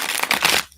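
A deck of oracle cards is shuffled in a quick, close riffle of papery flutters that cuts off abruptly, with no talking.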